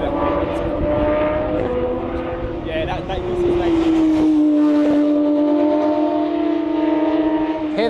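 A Porsche with a flat-six engine races past on the track at Mallory Park, its loud, sustained engine note sweeping and falling in pitch as it passes, while people talk close by.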